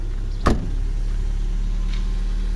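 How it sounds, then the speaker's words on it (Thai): A 1997 Toyota Corona Exsior engine idles steadily with a low, constant hum, broken near the start by a single brief sharp click. "เดี๋ยวเราไปรับฟังเสียงเครื่องยนต์นะครับ"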